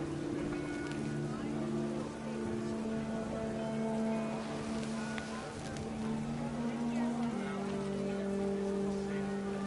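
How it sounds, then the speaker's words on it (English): Heavy rain falls steadily in the What Remains of Edith Finch video game, a continuous hiss blended under sustained musical tones and narration. "The rain came down in buckets then,"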